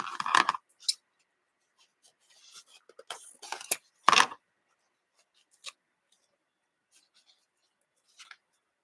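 Scissors cutting ribbon ties for a farmhouse cow wreath, a few quiet, close snips and rustles spread out with silent gaps between them.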